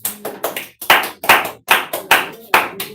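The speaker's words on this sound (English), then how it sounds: "Please clap for her." A class claps in a series of sharp, rhythmic bursts, about eight close, loud claps at a steady pace, with nothing else heard.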